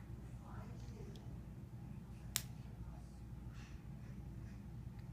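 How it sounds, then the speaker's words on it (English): A small child gives a single sharp hand clap indoors, one brief crisp smack amid quiet room tone, with an adult voice faintly speaking around it. "I want to see you clap."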